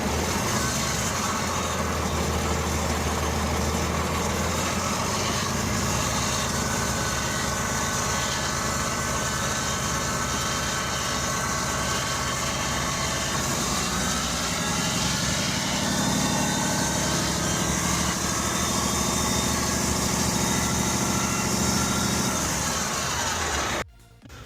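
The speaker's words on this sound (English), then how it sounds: "Let's rev it up and see what happens." A DAF CF truck's diesel engine runs loudly and close, a heavy continuous rumble that swells as it is revved, then cuts off abruptly at the end.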